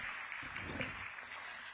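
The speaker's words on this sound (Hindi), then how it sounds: "let's give a big round of applause," Steady applause from an audience fills a live public event hall in Bengaluru, a continuous, even wash of clapping heard at a distance with no clear breaks.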